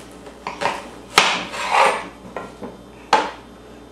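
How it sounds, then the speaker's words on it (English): A knife slices an onion in half on a cutting board, giving a few sharp, separate knocks and scraping cuts close by with short pauses between them. No one speaks. "cut the onion in half"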